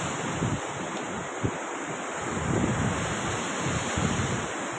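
Water pours through a large river dam in a dense, continuous roar that fills the whole range, steady and loud with some wind buffeting, and no voices.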